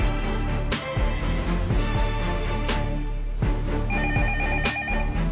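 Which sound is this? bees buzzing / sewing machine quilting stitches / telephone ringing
telephone ringing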